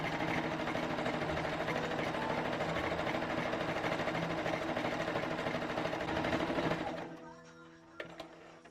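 A sewing machine runs steadily, stitching folded bedsheet fabric strips into straps, a continuous close mechanical whir that stops abruptly near the end, leaving a quieter room.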